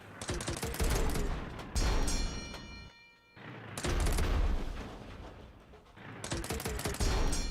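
Rapid tank gunfire in the Retro Tanks video game comes in dense, crackling bursts of fast shots, loud and close, separated by short lulls.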